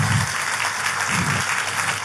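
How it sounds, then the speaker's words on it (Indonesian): Church congregation clapping during a worship service, dense steady applause filling the whole two seconds with no voices over it. "Tepuk tangannya yang paling meriah buat Yesus Tuhan kita."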